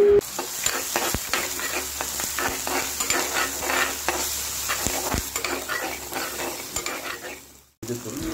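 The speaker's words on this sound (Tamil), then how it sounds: "தக்காளி லைட்டாக வதங்கினா போதும்" Garlic, tomato, green chilli and curry leaves sauté in a pan for a country chicken rasam, a steady close sizzle with repeated stirring scrapes and clinks running throughout, no talking, ending in a brief dip.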